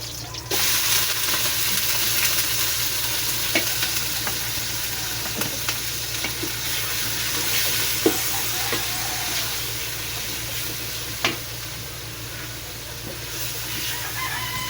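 Continuous sizzling and crackling of chicken frying in a pan for sopas, with occasional scraping clicks from stirring and no talking.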